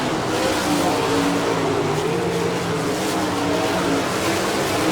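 Race cars at an All Star Circuit of Champions event in Barberville, Florida roar together into turn one, a dense, continuous, loud engine wash.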